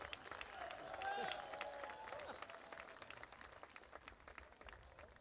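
An audience at the Rockin the Ville 2023 show cheers and applauds after banjo playing, a burst of clapping and shouts that peaks early and then thins out, somewhat distant and faint, with a voice over it.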